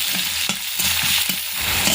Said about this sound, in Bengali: পেঁয়াজ কুচিকে হালকা ভাজা ভাজা করে নেব।